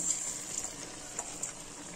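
Shrimp frying in a pan for a Bangladeshi dried-shrimp curry with pumpkin, jackfruit seeds and gourd shoots, giving a steady, moderately quiet sizzle with a few faint pops and no talking.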